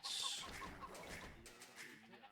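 Chickens clucking in the strategy video game Age of Empires II, a few short soft clucks close by with faint game ambience, no talk.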